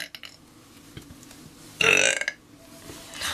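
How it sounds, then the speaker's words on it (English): A person burps deliberately, a few short croaks followed by one loud, drawn-out belch in the middle and a softer one near the end, alone with no talk. "let's do a couple more burps"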